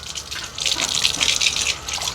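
Tap water runs and splashes steadily for about two seconds while dishes are being washed at a home sink, heard close and alone.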